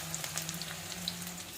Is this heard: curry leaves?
yes